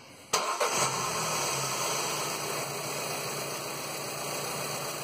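A Ford car engine cranks with a sharp burst, catches and settles into a steady, even idle that holds close and loud without any voices.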